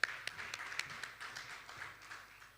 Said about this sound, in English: A round of applause for Ms.